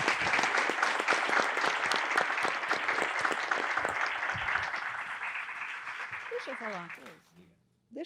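An audience at a live talk event gives sustained, loud applause that slowly tapers and dies away near the end, with a voice speaking briefly as it fades.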